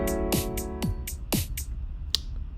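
A sustained chord built in music software plays under a programmed drum pattern, deep kicks and crisp snare or hat hits landing in a steady rhythm, clear and alone.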